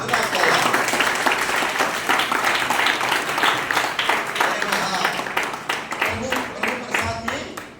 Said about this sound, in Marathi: जोरदार टाळ्या द्या